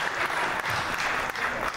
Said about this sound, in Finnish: Kuuntele tätä hurrausta, Markku